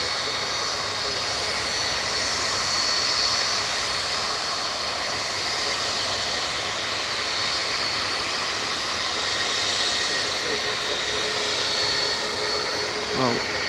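A Ryanair Boeing 737 jet taxis through fog at Manchester Airport, its engines giving a steady, distant whine and rumble that stays constant throughout.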